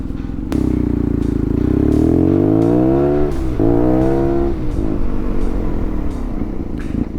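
BMW R nineT Paris Dakar kit motorcycle engine while riding on the road, a deep boxer rumble rising in pitch through hard acceleration, dropping briefly at a gear change, then climbing again before easing off, loud and close.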